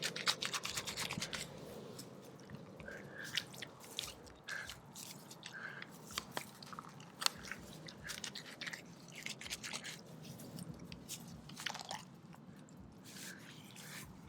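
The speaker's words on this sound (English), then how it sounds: "I'm just going to dig around the diameter of that sprinkler head, cut out the grass and the dirt." Grass and dirt being dug out around a buried lawn sprinkler head, heard as faint, close scraping, crunching and cutting sounds that come in steady irregular strokes with no talk.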